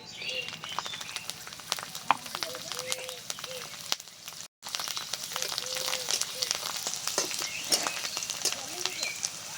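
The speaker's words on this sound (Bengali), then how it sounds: "এবার ওই তেলের ওপর দিয়ে দিচ্ছি কয়েক কোয়া গোটা রসুন" Whole garlic cloves fry in oil in a pan, producing a continuous close sizzle with fine crackles and spitting pops, briefly interrupted then resuming steadily.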